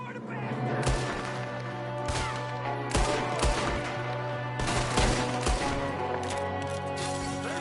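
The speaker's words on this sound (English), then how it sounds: "there's another one shooting" Gunfire in the Western video game Red Dead Redemption 2, with repeated sharp shots cracking out at irregular intervals over a steady game soundscape, while voices talk in between.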